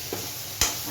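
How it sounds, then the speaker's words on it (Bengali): Onions sizzle in hot oil in a home kitchen as the base for chana masala: a steady hiss with a brief knock of a utensil against the pan, nearby, with no talking. "পেঁয়াজ ফোড়ন"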